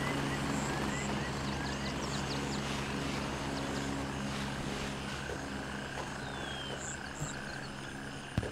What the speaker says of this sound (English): Enemy heli landing.